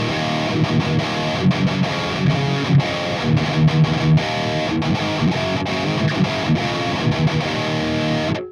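Heavy distorted metal rhythm guitar through an Audio Assault AHM 5050 amp simulator with its Stompbox section in front, tight chugging palm-muted riffs with sharp stops, played loud and steady throughout; no talk.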